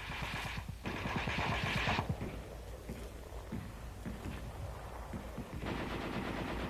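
A 1944 heavy machine gun fires rapid, loud bursts at a training exercise, a dense rattle at the start easing into sustained echoing fire with further bursts near the end.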